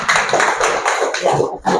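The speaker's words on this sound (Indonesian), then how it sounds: "beri tepuk tangan" Brief bursts of hand clapping from a small group at a university teacher-training presentation in Palangka Raya, choppy and close, with short gaps between flurries.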